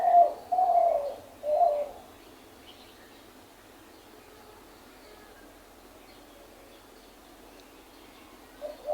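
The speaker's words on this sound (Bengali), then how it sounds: "এটা মানে ঘুঘু পাখি।" A dove calls in a few close, soft hollow coos at the start, then falls quiet, with a faint coo returning at the very end over a still background.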